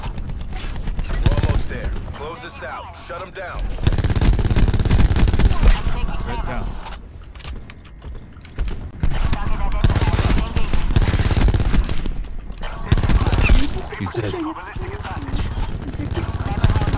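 Gunfire in the video game Black Ops 4, loud dense bursts of automatic fire and rattling shots in waves, with a voice speaking over the action.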